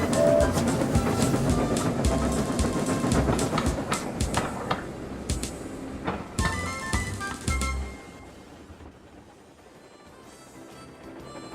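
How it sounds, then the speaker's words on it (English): A ballast train of wagons rolls into Knapford Harbour with steady rumbling and rhythmic clickety-clack of wheels over rail joints, loud and close at first, then slowing and fading toward quiet. "when Donald and Douglas saw the ballast train arriving at Knapford Harbour"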